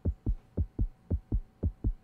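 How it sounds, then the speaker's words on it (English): A steady heartbeat sound effect from the Bidiots video game, eight soft low thumps in an even rhythm, close and clean with no talk. "Oh my god, that heartbeat"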